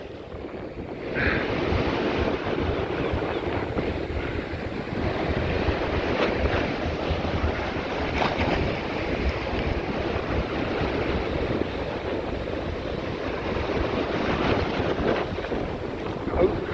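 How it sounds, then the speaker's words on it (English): Steady ocean surf and wind roar continuously on the Blackpool seafront, with gusts buffeting the microphone and waves washing in the background throughout. "I love this being next to the sea here. I hope the wind noise ain't too bad. You just hear the sea."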